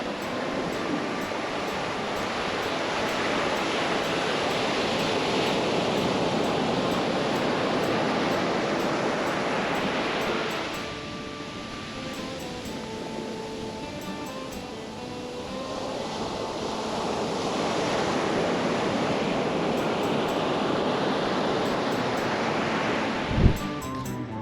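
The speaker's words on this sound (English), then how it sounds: "just the sound of waves and the breeze" Ocean waves roll onto a South Goa beach with a breeze, a broad steady wash of surf that swells and eases in slow surges, with wind buffeting and a brief thump near the end.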